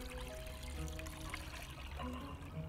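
Milk, a kilo of it, pouring steadily into a container for homemade yogurt, a continuous liquid stream heard close and alone.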